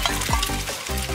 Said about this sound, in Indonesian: Selanjutnya tuang ke wajan.